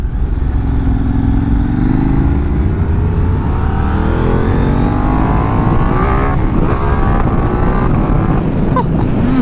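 A KTM 890 Duke motorcycle with a remapped ECU roars and climbs steadily in pitch as it accelerates hard, lifting its front wheel, with heavy wind rush buffeting the microphone throughout.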